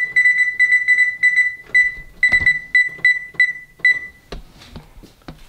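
A kitchen timer beeps in quick repeated bursts of short high-pitched tones, loud and close, then stops, leaving faint clatter behind.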